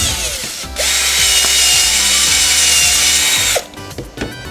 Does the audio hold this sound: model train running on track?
no